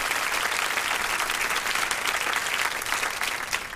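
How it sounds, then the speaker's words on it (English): Steady, dense applause from a crowd fills the whole stretch, loud and even with no pauses. "give her an official round of applause"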